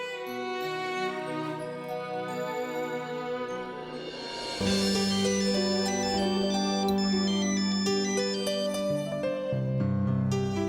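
A phone rings while a call is placed to Savitri, a melodic ringtone tune repeating in a bright electronic pattern that grows fuller partway through, loud and alone with no talking.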